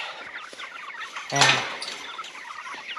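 Chickens clucking softly nearby in a coop, with one louder squawking call midway over a busy background of small bird sounds.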